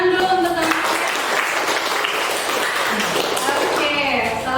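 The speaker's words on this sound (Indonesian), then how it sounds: "Beri tepuk tangan dulu untuk teman-teman" Students in a midwifery class applaud their classmates with a steady wash of clapping lasting several seconds, while voices talk over the start and end.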